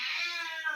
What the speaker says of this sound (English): Ocean is meowing